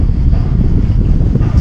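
Strong wind blows by the water, producing loud, low buffeting rumble against the microphone that stays continuous throughout with no voices.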